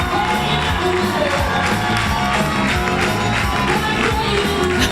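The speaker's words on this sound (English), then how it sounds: "Giving a group bow to this audience, capacity crowd." A capacity crowd cheers and whoops at a professional Latin American dance championship at the US Open, a dense, continuous roar of voices and clapping filling the hall.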